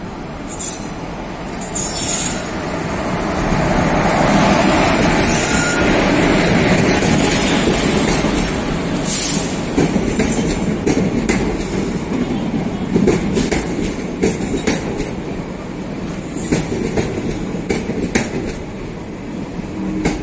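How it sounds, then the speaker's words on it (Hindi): A train pulls into a station on a Phagwara to Delhi route, its steady rumble and clattering wheels filling the platform, with brief wheel squeals and crowd noise. "ये देखिए ट्रेन, ट्रेन आ रही है"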